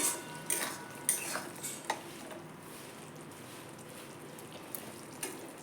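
A spoon clinks and scrapes against a pan while ridge gourd curry with turmeric and Kashmiri chilli powder is stirred, a few sharp metallic taps up front fading into a faint, quiet simmer.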